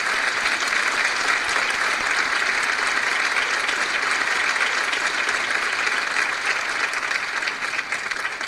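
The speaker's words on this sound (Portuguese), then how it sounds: "Por favor, eu peço que aplaudam os corais participantes desta noite." Audience applause for choirs at the second night of an international Christmas choir festival, a dense steady wash of clapping from a large crowd, loud and sustained throughout without a break.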